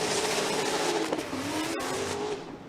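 A BMW Formula Drift car throws into an aggressive drift during a battle run, its engine screaming in a loud, sustained high rev with tire noise, close and continuous.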